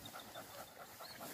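A kelpie working dog pants steadily in quick, soft, even breaths, close but faint, with no one speaking over it.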